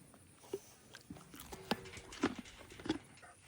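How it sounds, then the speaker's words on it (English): Horse chewing an apple close up on a farm, soft irregular crunching and munching bites with quiet wet jaw sounds, fairly faint and alone. "I love to hear Fiona chew"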